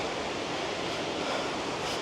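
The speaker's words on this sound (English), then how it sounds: "you can hear the raw power of that much water cascading down" Steall Waterfall in the Scottish Highlands sends water cascading down, heard from a distance as a constant broad roar, steady and unbroken, with some wind buffeting the microphone.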